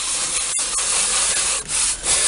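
Steady, close abrasive rubbing of sandpaper on soft balsa wood, a continuous hiss with brief dips between strokes.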